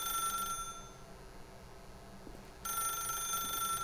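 Telephone ringing in The Stanley Parable video game, a bright electronic ring that drops away briefly mid-clip and then resumes, with faint background between rings.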